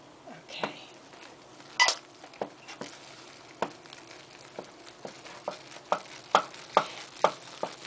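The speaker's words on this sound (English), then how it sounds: "This we keep beating until it forms a ball." A wooden spoon beats butter, flour and water dough for cream puffs in a bowl, giving off soft, irregular taps and knocks that quicken into a steady rhythm, quiet and close.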